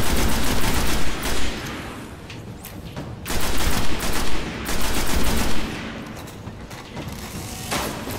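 Dense bursts of video game gunfire from Destiny, on Venus, crackle loud and close in repeated volleys, with brief lulls between the heavier flurries.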